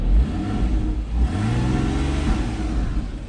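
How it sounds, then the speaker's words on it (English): A Porsche Boxster S 981 flat-six revs up from idle, climbing in pitch and swelling loudly, holding briefly, then falling back, heard close with no talk. "Just going to rev it now so you can really hear that engine"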